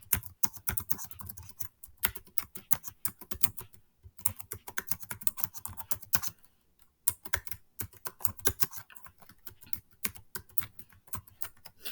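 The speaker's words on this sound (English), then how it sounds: "I'm going to start typing my next paragraph" Rapid clicking of keys being typed on a Chromebook laptop keyboard, close up, in steady bursts with a couple of brief pauses; no voices.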